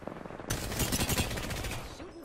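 Rapid gunfire bursts in a first-person shooter match, a dense volley of shots starting abruptly and continuing loud and close for nearly two seconds, then easing off.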